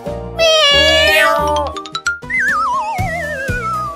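A child imitates a cat, repeating sing-song meow-like calls loudly and close over bouncy music with tinkling tones.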